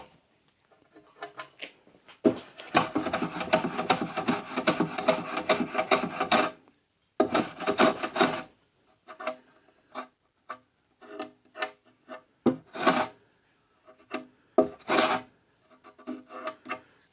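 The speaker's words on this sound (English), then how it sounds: "So now it's just lots and lots of sanding" Hand sanding wood during a French home upcycling project, long stretches of rasping strokes followed by shorter, intermittent scrubbing bursts with pauses between them.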